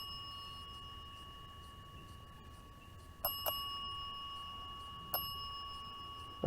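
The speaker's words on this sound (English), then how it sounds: "We got the bell going off and the REM pod." An EMF ghost-hunting bell alarm in a cemetery at night gives three sharp, ringing dings, two close together and one a bit later, over a faint steady electronic tone and low background hiss.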